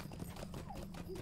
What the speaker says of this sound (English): let's get on a horse